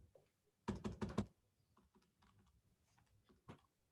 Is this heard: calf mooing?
no